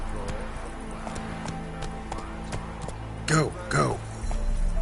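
Roach the horse gallops in a video game, with a steady clip-clop of hooves under ambient sound, a couple of loud neighs or whinnies near the end, and a short spoken shout.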